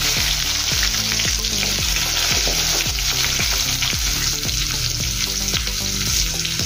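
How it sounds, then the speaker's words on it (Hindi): Onions and green chillies frying in hot oil with crackled mustard seeds and asafoetida for an aloo baingan curry: a loud, steady sizzle broken by a spatula scraping the pan about twice a second, with no voices. "अब इसमें हम प्याज डालेंगे।"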